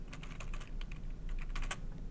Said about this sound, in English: all I did was I just typed on my keyboard and text popped up